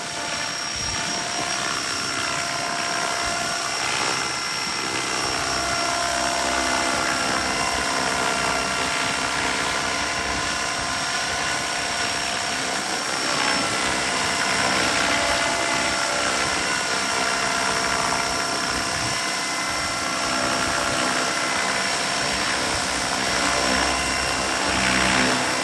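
A Funkey Bell 206 550-size scale RC helicopter with a 6S electric setup flying in idle-up mode, giving a steady, loud whine of motor and rotor that holds throughout with slight swells in pitch and no talking.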